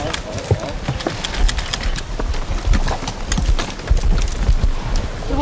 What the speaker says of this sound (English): Watch the horses.